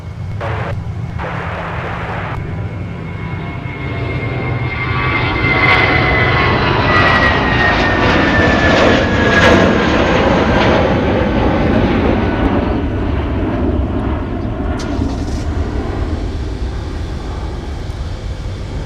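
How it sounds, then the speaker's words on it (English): A United Airlines Airbus A320 jet departs Minneapolis–St. Paul airport on a winter morning, a loud, sustained engine roar with a rising whine that swells and then slowly eases as it climbs away. "That's our first United Airlines departure this morning that we've captured out to Chicago O'Hare on an Airbus A320 Flight 576 United Airlines."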